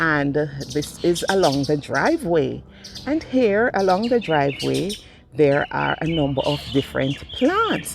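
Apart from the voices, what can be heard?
birds chirping in a garden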